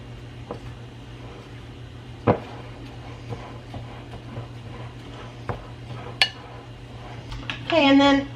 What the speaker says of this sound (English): just gonna stir this up, and this will be our breading.